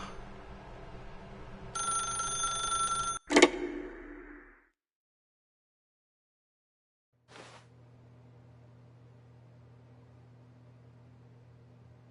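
A telephone in the video game The Stanley Parable rings with a bright electronic trill for a couple of seconds, then a sharp click, followed by silence and a low steady hum.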